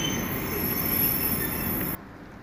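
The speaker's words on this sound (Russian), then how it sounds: "назначен специальный поезд Рига-Киев" Loud, continuous rumble of a passing Riga–Kyiv passenger train with a thin high-pitched wheel squeal, cutting off abruptly to quieter background.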